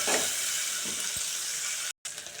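Two small onions fry lightly in oil in a pan, giving a steady, hissing sizzle throughout with a faint clink and a brief dropout near the end.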